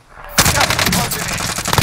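Gunfire in the video game Call of Duty Warzone erupts after a brief quiet moment, a loud, close, rapid flurry of shots blending into a dense rattling volley that continues to the end.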